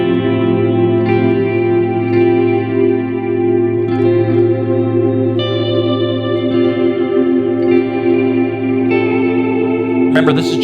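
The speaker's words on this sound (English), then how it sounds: "Even more on the mix with the reverb there and get even more swimmy," Electric guitar run through an Earthquaker Devices Avalanche Run delay pedal set to forward delay with reverb mixed in, giving sustained, swirling, washy tones that ring out steadily and loudly with no voice over them.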